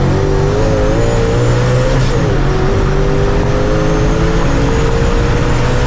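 A procharged Ford Mustang engine revs hard through a second-gear pull, a loud, sustained supercharged roar with a steadily climbing whine, heard close and continuous without talk.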